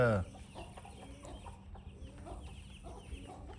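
Soft, close clucking of Brahma hens and peeping chicks over a low rumbling background, with a brief louder burst at the very start.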